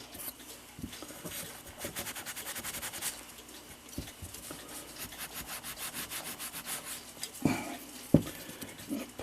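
Rust being scrubbed off Seth Thomas mantel clock parts, a rapid, close rubbing and brushing rhythm that continues steadily with a few sharper scrapes, no talking.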